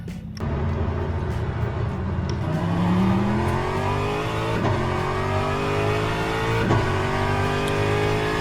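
An LMGT3 race car engine in the Assetto Corsa racing game roars loud and close, climbing steadily in pitch through the revs with quick upshifts that briefly drop the tone before it rises again.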